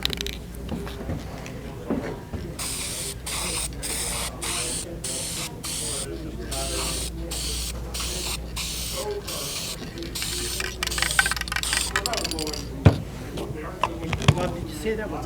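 Satin lacquer hisses from a spray can in repeated short blasts over a metal patina finish on wood, steady and close, while people talk quietly over it and a couple of sharp clicks land near the end.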